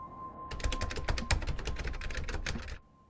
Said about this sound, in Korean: 누군가가 컴퓨터 키보드 자판을 치는 소리가 들렸대요